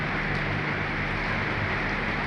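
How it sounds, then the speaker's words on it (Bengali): Heavy evening rain pours down in Dhaka, a dense, unbroken hiss that stays loud and constant throughout. "6টা থেকে বৃষ্টি আরম্ভ হয়েছে"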